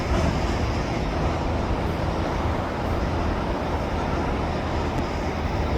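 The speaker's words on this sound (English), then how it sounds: "Nice lengthy train, I have to say." A long CN freight train hauling hopper cars rumbles past in a continuous, steady broadband roar, loud and unbroken, with no voices over it.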